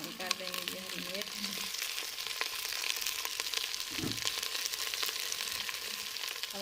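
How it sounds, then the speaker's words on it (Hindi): Okra and green chillies fry over high heat in a pan, giving a steady, close, broadband sizzle throughout, with a brief voice near the start. "भिंडी का कलर चेंज होने तक पकाएंगे"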